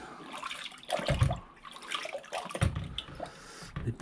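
Classic Triumph TR7 car parts are dunked and rinsed in a bucket of cold water, with close sloshing and splashing in a few uneven bursts.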